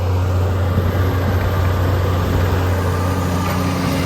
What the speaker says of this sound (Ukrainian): Тракторець працює, культиватор, як ви бачите, свої задачі справляється на відмінно.